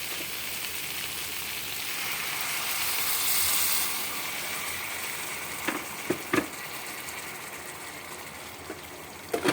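Water poured into fried spice paste with a fried bhetki fish head and tail for a Bengali chachchari bursts into a broad hiss that swells and then settles into steady sizzling, with a few clinks of utensils later.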